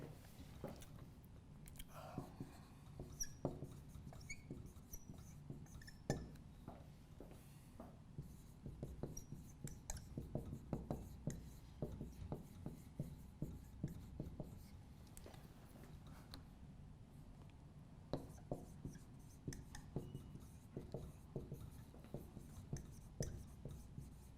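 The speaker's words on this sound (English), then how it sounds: "I'm just gonna write up some mock stuff" A pen scratching on paper in an indoor room, producing quiet, irregular strokes and taps that continue steadily for a long stretch, close by, with no one speaking.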